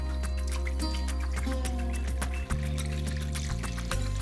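Full cream milk pours steadily into a kulfi mixture, a close continuous liquid stream with small splashes and drips and shifting low tones as the level changes, no voices.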